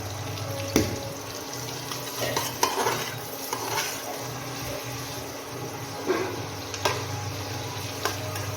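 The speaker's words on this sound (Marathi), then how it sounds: "हिरव्या मिरच्या कट करून घेतलेल्या आहेत ते पण तेलात टाकून घेऊया फिरवून घेऊ थोडंसं" Cut green chillies fry in oil with onion while being stirred, giving a steady sizzle with scattered spoon knocks and scrapes against the pan, close and fairly loud, with no speech.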